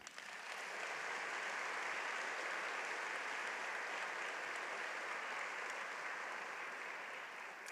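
An audience at a computer science spring diploma ceremony applauds the graduates with a broad, sustained wash of clapping that holds steady throughout, heard at a distance.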